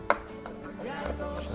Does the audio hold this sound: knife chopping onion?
yes